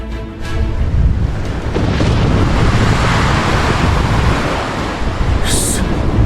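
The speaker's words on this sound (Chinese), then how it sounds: "即刻启动最高级别模拟风暴，进行抗风浪测试。" An animated simulated storm with wind and waves, run as a rough-sea test for a warship. A dense, steady roar of gusting wind and crashing surf fills the whole stretch at high volume, with no pauses.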